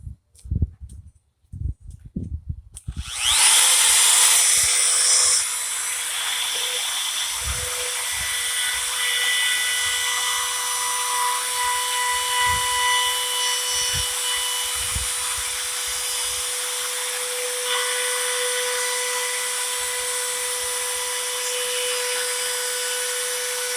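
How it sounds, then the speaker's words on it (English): A palm router with a round-over bit shapes the edge of a wooden desk. A few clicks come first, then a loud high-pitched motor whine spins up and runs steadily to the end. "we're going to use this little gadget called a router. It's a palm router"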